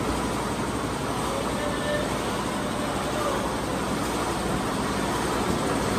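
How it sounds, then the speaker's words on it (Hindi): A train pulling out of a station, its steady broadband rumble and rail noise continuous and fairly loud throughout, with voices audible underneath. "जैसे जैसे ट्रेन आगे जा रही है"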